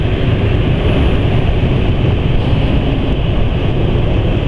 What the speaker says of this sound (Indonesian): Tapi udah jelas bahwa ini suara mesin halus